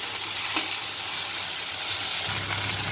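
Shrimp frying lightly in a pan, a constant hissing sizzle close by, with a brief knock of a utensil partway through.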